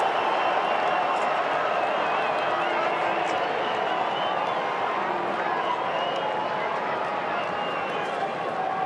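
Travelling Carlton supporters cheer a goal at an AFL football match between Fremantle and Carlton, a broad sustained crowd roar that holds steady throughout, heard from a distance.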